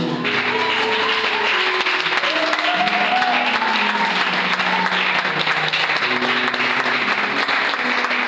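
A church congregation applauds to acclaim God, steady clapping from many hands sustained throughout, with voices and music tones running underneath.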